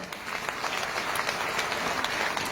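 Audience applause at a Vestige business meeting, steady dense clapping from a crowd, loud and continuous throughout with no talking.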